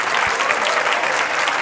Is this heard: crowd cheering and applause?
yes